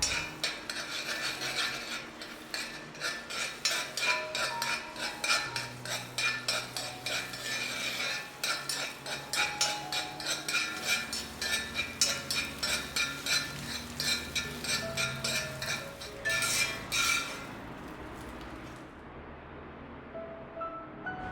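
Egg scrambled in oil in a pan for fried rice, with a long run of rapid rhythmic scraping and clinking of a spatula against the pan over a faint sizzle. The scraping stops near the end.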